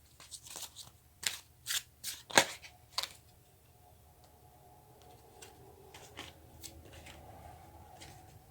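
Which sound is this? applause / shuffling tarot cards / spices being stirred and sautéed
shuffling tarot cards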